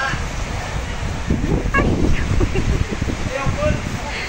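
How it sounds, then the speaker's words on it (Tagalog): Gusty wind buffets the microphone in uneven surges, with rumbling bursts rising and falling over a few seconds and a faint background chirp. "Ayan, mahangin na naman. Pabugso-bugso yung hangin."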